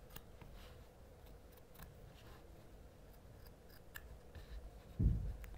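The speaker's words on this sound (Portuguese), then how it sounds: "Agora eu venho com a tesoura e tiro todo o excesso, ó." Scissors snip away excess fabric from a patchwork notebook cover, giving a few faint, sparse cuts close by in a quiet room, with a slightly louder snip near the end.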